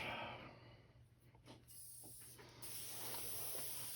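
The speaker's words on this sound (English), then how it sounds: "Clean this out of my airbrush." An airbrush sprays straight alcohol through itself to clear acrylic lacquer, producing a steady, close hiss that swells and briefly dips before running on evenly.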